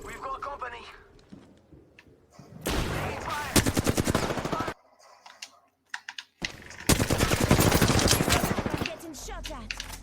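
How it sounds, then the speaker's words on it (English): Gunfire in a video game comes in two long, loud bursts of rapid shots, separated by a silent gap and mixed with keyboard clatter. A voice talks at the start. "I'm getting shot at."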